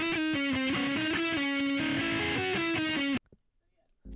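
An electric guitar reamped through a distorted amp plays a quick melodic riff of sustained, driven notes for about three seconds, then cuts off abruptly into near silence.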